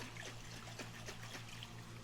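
Water trickles and pours steadily from a container while homemade lasagna is prepared, a soft continuous liquid stream close by with a low steady hum underneath, no voices.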